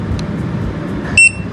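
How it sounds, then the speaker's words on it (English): A Vlock G9 smart lock gives a short, bright electronic beep near the end, close and clear over low background hum. "5 beeps."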